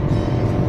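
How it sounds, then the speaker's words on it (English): Motorcycle roaring past close by in a short, loud burst of dense engine rumble, no voices. "Santa Claus on the motorcycle"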